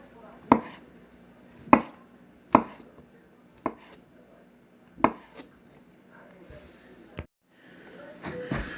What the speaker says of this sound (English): I spared you the boring details of me chopping up mushrooms.